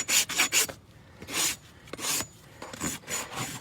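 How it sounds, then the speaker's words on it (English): A rasp files a horse's hoof in rhythmic rough strokes, several scraping pulls in quick bursts with short pauses between, close and distinct, no talking. "just take a rasp and file it off"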